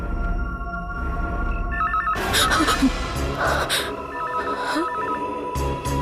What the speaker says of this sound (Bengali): ফোন এখানে কি করে বাজছে?